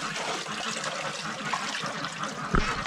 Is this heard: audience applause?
no